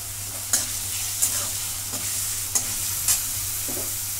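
Peas for a samosa filling sizzle in a pan under a steady hiss and low hum, with about five distinct stirring scrapes spaced roughly evenly and close by.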